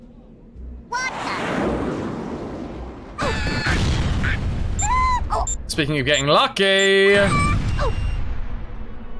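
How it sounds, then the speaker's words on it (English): Cartoonish explosions and blasts from the video game Worms: Reloaded bursting one after another amid game effects and squeaky character voices, with someone talking over the action throughout. "That's a nice amount of explosions there."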